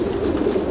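Pigeons cooing, a short low throaty burble heard close and fairly loud in one brief burst.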